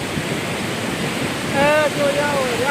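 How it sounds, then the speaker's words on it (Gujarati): Strong floodwater rushes over a submerged Shiva linga shrine, a loud, steady roar of turbulent water close by, with a brief voice-like tone rising over it partway through. "જોરદાર પાણી છે."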